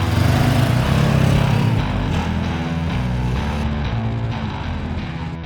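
Honda CB500X motorcycle from 2021 with a parallel twin engine runs steadily and loudly up close, a smooth continuous drone with slight shifts in pitch and no talk.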